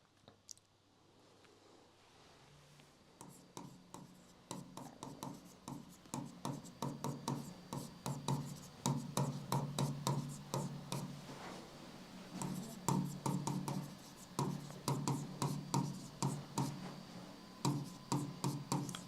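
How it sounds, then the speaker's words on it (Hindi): Handwriting a line of notes, pen or chalk scratching in quick rhythmic strokes with short pauses between words, close and fairly quiet, with no talking. "तो अगली लाइन लिखेंगे"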